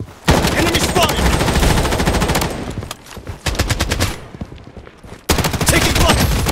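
Rapid automatic gunfire from a first-person shooter, Project BloodStrike: loud, dense bursts of shots in several sustained volleys separated by brief pauses, close and dominant with no speech over it.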